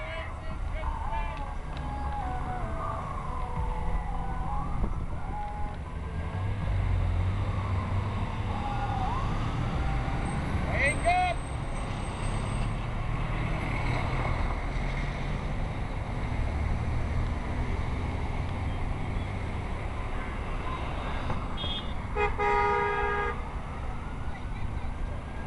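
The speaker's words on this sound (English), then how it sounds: "Let the traffic clear." Busy city street traffic while waiting at a light, with a steady low rumble of passing vehicles, occasional horn toots and a brief siren-like tone in the middle, with people talking over it.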